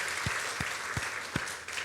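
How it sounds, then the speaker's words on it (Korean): A church congregation applauds during Sunday service announcements, a steady, fairly distant wash of clapping with a few heavier low thumps spaced through it. "우리 축복한다고 박수하겠습니다."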